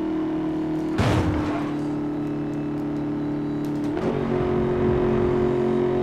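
Ford GT engine in the racing game Need for Speed Most Wanted (2012), a steady droning hum with two sharp rev surges about three seconds apart, loud and without talk.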